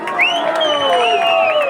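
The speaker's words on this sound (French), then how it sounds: "On l'applaudit bien fort." Crowd at a local event cheering and whooping for a Montpellier Hérault mascot, with loud overlapping shouts and rising voices that carry throughout, and only light clapping underneath.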